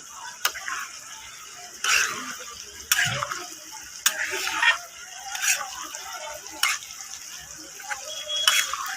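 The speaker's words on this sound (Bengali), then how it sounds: "এখন আমি জল দিয়ে দেবো।" Vegetables and shrimp cooking in spices in a pan give a steady sizzle, broken by repeated bursts of stirring and scraping roughly every second and a half, close and moderately loud.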